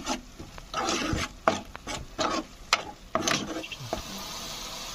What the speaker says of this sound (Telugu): ఇందులో అల్లం వెల్లుల్లి పేస్ట్ వేసుకోవాలి. ఇప్పుడు దీన్ని కూడా బాగా కలుపుకోవాలి.